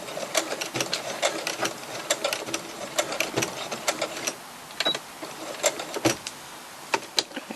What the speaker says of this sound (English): just going to back stitch again.